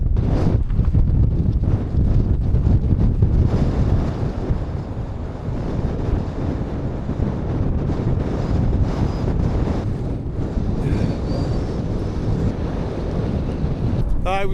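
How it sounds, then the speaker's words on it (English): Steady, loud wind buffeting the microphone on an exposed mountainside, a continuous roar that gusts stronger throughout, with brief clicks and rustles near the end. "the wind is getting up a little bit now"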